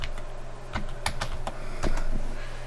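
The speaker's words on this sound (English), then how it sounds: "that's me typing" Rapid, uneven keystrokes on a computer keyboard, a string of sharp clicks with a few louder taps, close and clear over a steady low hum, no voices.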